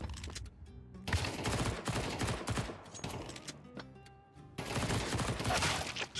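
Counter-Strike Wingman match gunfire: a point-blank shotgun blast to the face amid loud, repeated bursts of shots that come in dense clusters with brief lulls between them.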